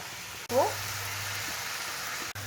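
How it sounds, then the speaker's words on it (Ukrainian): Steady, hissing sizzle of onions frying in a pan over medium heat, continuous and close, with a brief murmur of a voice near the start. "у сковорідку додаю цибулю"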